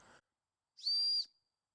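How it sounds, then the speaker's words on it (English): One loud, piercing blast on a whistle from a Walmart survival tool kit, a shrill steady tone of about half a second, preceded by a brief faint noise and then silence. "Let's try the whistle."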